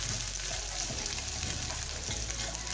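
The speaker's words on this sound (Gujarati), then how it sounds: "અને એને બરાબર આપણે સાતળી લેવાની છે।" Onion sautéing in a pan for Gujarati bhungla batata, a steady close frying sizzle with occasional soft stirring, continuous throughout and without speech.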